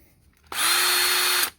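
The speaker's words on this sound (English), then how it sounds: "If you put a tap in a drill, you need to spin it and make sure it's straight." A power drill spinning a thread tap whines at a steady high pitch for about a second, close and loud, then cuts off.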